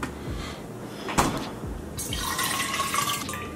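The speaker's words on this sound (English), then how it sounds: "let me fill up my water" Water poured into a cup at home during a quarantine morning routine, a soft splashing trickle with a brief clunk, then rising fill sounds, close and quiet with no talking.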